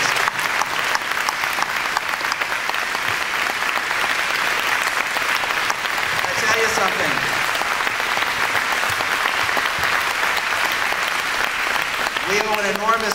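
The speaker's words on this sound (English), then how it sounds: "Let's give them a round of applause, both of them," Sustained applause from an audience at a city parks employee presentation, steady and dense clapping filling the room throughout, with a few voices briefly audible near the end.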